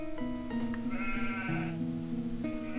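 Sheep bleat in an Age of Empires 2 match, several wavering, nasal calls overlapping each other amid steady game ambience, fairly close and clear with no talking.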